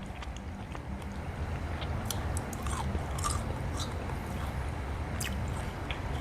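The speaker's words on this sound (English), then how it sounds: "This one has more of a crunch." Close, steady crunching bites and chewing of air-fried meat dipped in mustard and hot sauce, continuous over low background noise with no talking.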